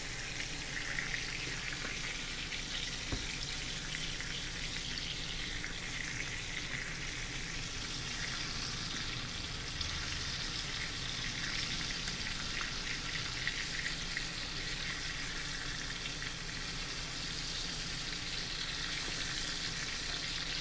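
A prime ribeye steak sears in butter in a stainless steel pan, giving a continuous, even crackling sizzle that holds steady for about twenty seconds, close up and with no voices.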